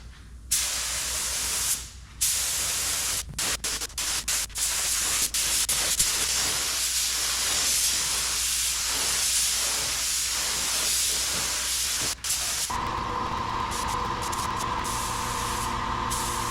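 A spray gun applies a second coat of paint to Nissan Titan bumper parts, giving loud, close hissing bursts in short pulses and then longer sprays, followed by a steady compressor-like hum near the end.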